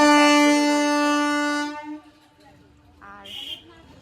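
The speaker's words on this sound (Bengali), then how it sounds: "পাশেই ট্রেন হর্ন দিচ্ছে" A train horn blasts loud and close beside a wholesale bag market in Kolkata, holding one long tone for about a second and a half before cutting off, followed by quieter street noise and a short higher honk.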